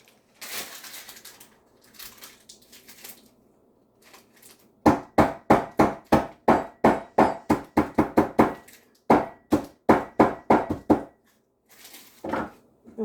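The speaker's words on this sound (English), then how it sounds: "Got a hammer. I'm going to try to crush the tablets." A hammer crushes tablets in a rapid series of sharp, hard blows on a surface, about twenty crunching strikes in quick rhythm, preceded by rustling and scraping.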